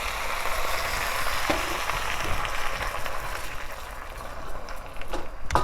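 Homemade teriyaki sauce hits a hot pan of tofu and Brussels sprouts stir-fried rice, giving a close, steady sizzle and crackle with some stirring scrapes throughout.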